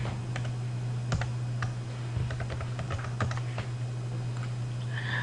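Typing of an address and postcode on a computer keyboard, a steady scatter of light key clicks over a constant low electrical hum, with no voices.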